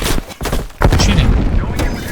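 Gunfire in Call of Duty Black Ops Cold War, loud close shots and booms packed into a couple of seconds over dense game noise, with a voice talking.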